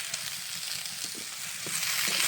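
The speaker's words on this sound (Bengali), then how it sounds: "পটল একটু ভেজে ভেজে দিতে পারবো" Pointed gourd (potol) frying in a pan with salt, a steady close sizzle with faint stirring scrapes running throughout and swelling slightly toward the end.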